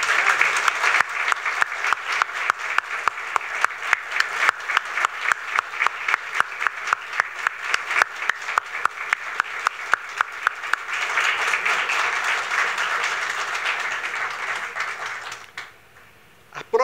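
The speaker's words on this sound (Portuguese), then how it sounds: "eu peço uma salva de palmas" Applause from an audience at an academy induction ceremony, a long, steady round of clapping with a regular rhythm of individual claps, continuing for about fifteen seconds before stopping abruptly into near silence.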